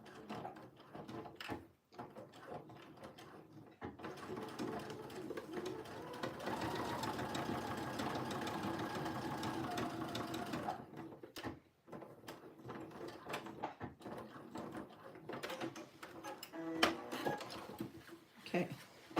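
A sewing machine stitches a second line of topstitching on a pair of jeans, running in a few rapid mechanical bursts with short stops between, close and fairly quiet.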